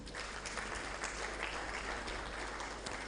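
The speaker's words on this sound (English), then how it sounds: "Let's clap for him." An audience at a distinguished lecture applauds a professor of electrical and electronic engineering, producing a steady wash of clapping that is faint and distant and fairly even throughout.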